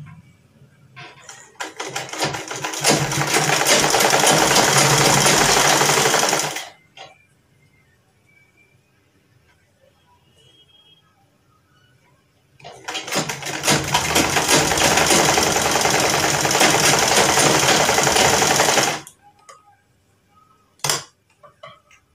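A sewing machine stitching a garment sleeve runs in two long, steady, loud bursts of rapid mechanical whirring, separated by a quiet gap with faint handling sounds and a few sharp clicks near the end.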